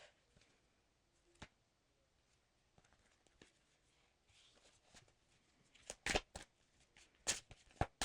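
Quiet tarot card handling builds into several crisp, riffling shuffles near the end, each a quick papery burst, close and fairly loud.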